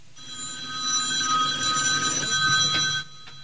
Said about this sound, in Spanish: El sonar del teléfono le sacó su abstracción.